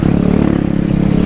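A Kayo 125 enduro motorcycle engine revs up close, loud and steady, with a buzzy, slightly clattery tone that holds throughout.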